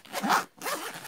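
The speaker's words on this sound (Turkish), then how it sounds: "Şu şekilde fermuarı kapanıyor. Çift fermuar zaten." The double zipper on a baby care bag is pulled in two quick, close strokes with a short pause between them.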